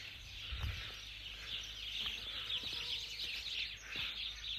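Chickens cluck faintly near a backyard chook house at a rural property late in the afternoon, distant and soft under steady outdoor ambience, with no talking.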